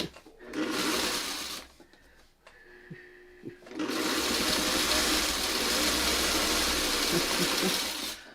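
A sewing machine runs a quilt seam on a Y-seam block in two bursts, a short whirring run, a pause with light handling clicks, then a longer steady stitching hum heard close and alone.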